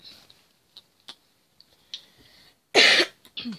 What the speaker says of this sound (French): Désolée si je, tousse si je tousse beaucoup